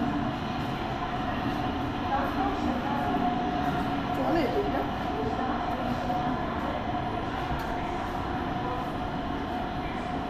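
Steady rumbling of a train running on rails plays continuously from a video screen in a museum, with voices talking over it throughout.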